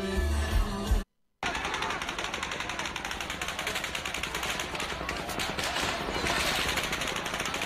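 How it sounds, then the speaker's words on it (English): Sustained rapid automatic gunfire rattles on almost without pause for several seconds, loud and dense, after a brief dropout near the start. "Maybe that was automatic gunfire."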